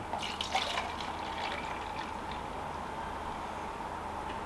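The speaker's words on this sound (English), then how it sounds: "And I'm going to pour the apple in." Apple juice pours and trickles steadily into a Ninja Creami tub, a soft continuous splashing that stays fairly quiet.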